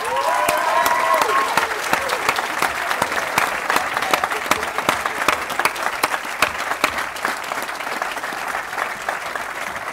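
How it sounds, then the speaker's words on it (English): Sustained audience applause and cheering for a prize winner at a senior school prize-giving, steady and loud throughout with dense clapping and a few brief whoops early on, no speech over it. "Kate definitely got a bigger cheer than you, Sam"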